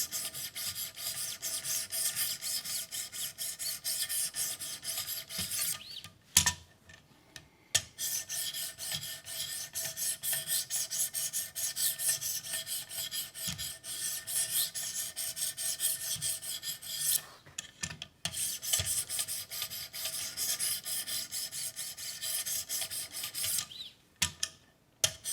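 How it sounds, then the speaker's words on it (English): A Spyderco Native 5 knife with a CPM-M4 steel blade is drawn across an 800 grit sharpening stone in long, even, rasping strokes. Brief pauses break the rhythm, and the sound stays close and alone with no voices. "So same thing with 800, a little bit finer grit."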